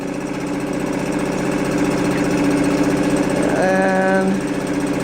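A 2017 Suzuki 2.5 hp single-cylinder outboard motor runs steadily nearby with an even, buzzing chug that holds the same pace throughout, with a brief higher whine near the end.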